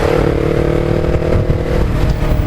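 R25 sport motorcycle engines roar loudly and close by, a continuous rumbling drone as the bikes ride past together.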